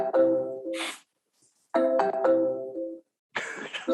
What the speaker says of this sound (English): I have to turn the phone off, Steve.